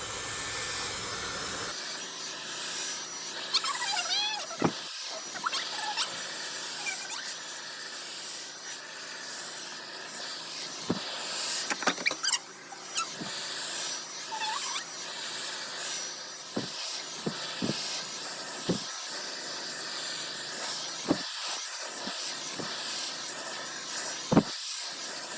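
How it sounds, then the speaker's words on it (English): A hair dryer blows steadily while drying hair extensions at the base of the wefts with a round brush, a continuous close airy hiss broken by brief rubbing and brushing sounds, with no talking. "the last thing to dry when you're blow drying your hair is always right at the base of your wefts"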